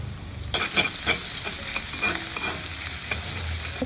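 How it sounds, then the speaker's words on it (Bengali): Chopped garlic and ginger hit hot oil in a pan, bursting into a lively sizzle, with a spatula stirring in a steady series of scrapes and taps, close and clear. "এখানে তেল দিয়ে দিয়েছি। তো এখন দিয়ে দেবো হচ্ছে রসুন, হচ্ছে আদা কুচি"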